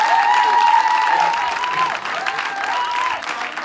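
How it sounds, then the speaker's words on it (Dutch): Audience applause at an amateur football club event welcoming a new main sponsor: loud, steady clapping with a few whistles and calls mixed in, continuous and close. "Dames en heren, een hartelijk applaus voor onze nieuwe hoofdsponsor Henny van Os met TVE Reclame."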